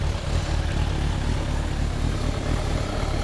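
A carburetted Suzuki Bandit 1200S motorcycle engine running, a steady low rumble with a constant throbbing exhaust note, close and even in level, no voices.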